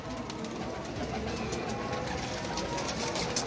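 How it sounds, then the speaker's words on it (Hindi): Pigeons coo nearby, soft repeated low calls set against a busy background of general noise. "ऐ सामने खड़ा है जी कबूतर"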